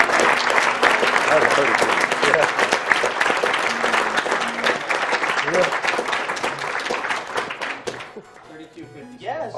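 Audience applause and cheering at the AGDQ 2014 charity speedrunning marathon during a Mega Man 9 run, loud and sustained for about eight seconds under excited talking, then quickly dying away.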